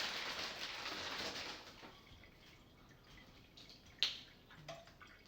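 A kitchen tap runs into a glass with a soft hissing stream that fades out, then a few faint drips and small clinks follow in a quiet room.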